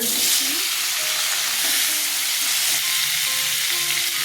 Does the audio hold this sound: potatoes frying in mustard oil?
yes